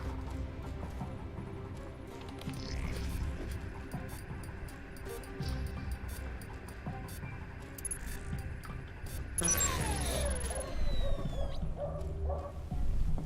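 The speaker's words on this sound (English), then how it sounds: "Dog's freaking out." Dog barking inside the spy video game Alpha Protocol: faint, scattered barks and yips under a steady game ambience with metallic jangling, growing busier and louder toward the end.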